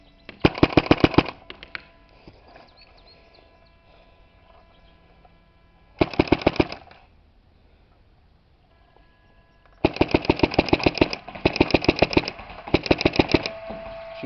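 A rebuilt Shocktech Autococker paintball marker fires in rapid bursts of sharp, close pops, a short string, a brief one, then three longer strings separated by quiet gaps.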